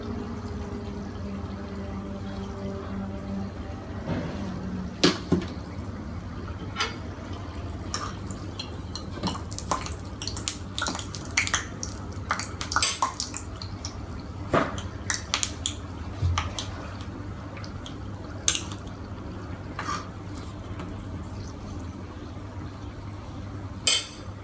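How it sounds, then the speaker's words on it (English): Samosas deep frying in hot oil, a steady low sizzle with scattered soft pops and crackles running throughout, fairly quiet and with no voices over it. "The oil is nice and hot. Let's add in the samosas."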